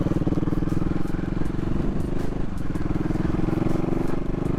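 A CCM Bobber motorcycle idles at traffic lights, a steady, close engine burble running evenly throughout with a faint clatter on top.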